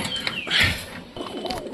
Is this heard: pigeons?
yes